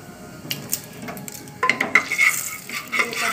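Bay leaf, cumin and chili powder stirred in a pan, with a metal spoon clinking and scraping against the pan over a faint sizzle, near and fairly quiet.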